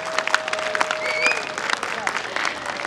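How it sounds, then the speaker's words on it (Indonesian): Audience applause for election candidates at a regional debate, a short burst of dense clapping with a faint tone and whistle-like squeaks mixed in, fairly loud throughout. "kita berikan tepuk tangan yang meriah untuk seluruh pasangan calon"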